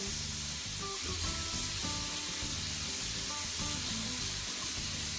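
Spinach and mushrooms frying together in a pan, giving a steady, close sizzle with a bright hiss that continues unbroken and is joined by faint clinks and stirring.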